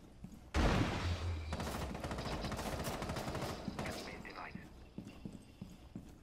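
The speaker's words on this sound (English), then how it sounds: "They shoot through that window?" Rapid automatic gunfire from the video game Rainbow Six Siege, shots fired through a window: a sudden loud onset followed by a sustained rattling volley that gradually fades, with quieter scattered sounds afterward and voices talking underneath.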